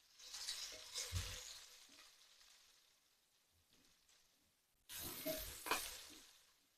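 Prawns frying in a pan, giving a steady crackling sizzle that fades down for a while and then flares up loud and spitting again, with no voices over it.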